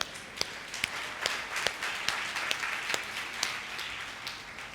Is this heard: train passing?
no